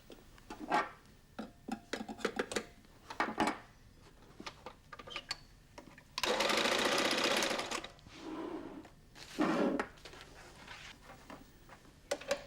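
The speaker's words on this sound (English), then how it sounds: "The tape is neatly sewn at the corners. The machine runs to the edge of the carpet." A carpet binding sewing machine stitches perlon velour tape onto a carpet edge and around corners. It runs in short rattling bursts, then a sustained whirring run and a final shorter burst, close and loud.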